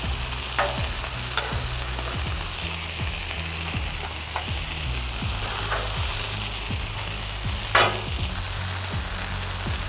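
Burger patties sizzle and brown on a hot griddle in a steady, loud crackle, with sharp spatula scrapes and taps punctuating it as they are flipped.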